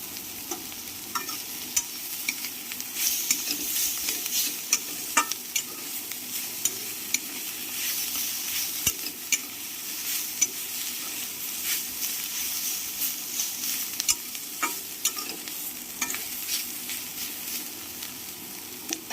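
A long stretch of prawns, shells still on, crackling and hissing in a frying pan, with a steady sizzle broken by intermittent spatula scrapes and pops, near and uninterrupted by talk.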